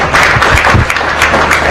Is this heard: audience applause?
yes